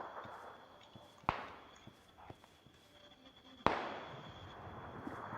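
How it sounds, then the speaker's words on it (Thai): Two sharp, distant gunshot cracks in PUBG ring out a couple of seconds apart over a low, rustling background with faint scattered thumps. "ทำไมมันยิงกันจังวะ"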